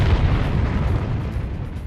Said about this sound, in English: It looked like a big explosion,